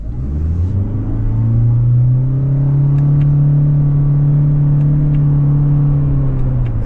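A 2026 Toyota Corolla Cross SE Hybrid with eCVT accelerating in manual mode while paddle-shifting: a loud, steady engine drone that swells and rises slowly in pitch, with no clear breaks at the shifts, heard from inside the cabin.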